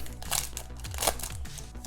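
A Pokémon GO trading card pack from an Elite Trainer Box being torn open by hand, with crinkly foil rips and crackles in close bursts, three louder tears standing out over about two seconds.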